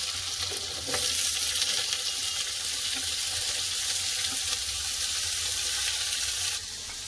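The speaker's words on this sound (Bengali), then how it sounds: "তেল গরম হয়েছে, দিয়ে দেবো ফোড়নে কালো জিরে, দুটো কাঁচা লঙ্কা, দিয়ে দেবো আগে আলু আর ডাঁটাটা।" Potato pieces and vegetable stems fry in hot oil with nigella seeds and two green chillies, giving a loud, continuous close-up sizzle that barely changes throughout.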